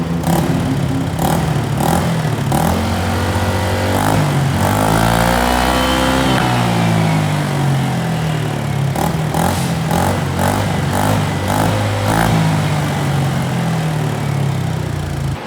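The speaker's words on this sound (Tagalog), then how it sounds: "Ganun katahimik yung M1 B-Lane natin pag naka-silencer." An M1 B-Lane motorcycle engine idles and revs with a silencer fitted. It holds a steady, fairly quiet putter, swells into one longer rev in the middle, and carries a light mechanical clatter throughout.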